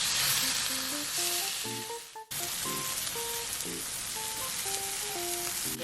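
Blackened catfish fillets fry in a pan turned up to high heat, giving a loud, steady sizzle that runs nearly throughout, with one brief dip partway and a quiet musical background beneath.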